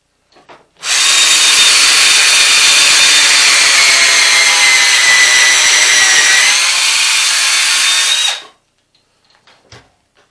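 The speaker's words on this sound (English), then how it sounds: "Yeah, I'm gonna have to drill another one." A power drill runs loud and steady for about eight seconds as it bores into a wooden Yule log, then cuts off, followed by a few small knocks.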